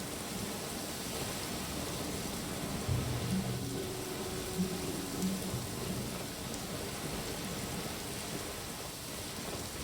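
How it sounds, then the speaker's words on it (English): Steady rain in the Genshin Impact video game, a dense even hiss of falling drops that runs unbroken throughout, with faint low tones beneath. "Rain. One way to wash off the grime."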